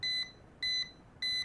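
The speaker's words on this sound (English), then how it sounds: "that's the sound of it coming back if it goes away." Three evenly spaced electronic beeps from a Global CSJ-X4 GW106 folding drone's controller signaling return-home, each a short double-toned chirp, clear and close with brief silences between.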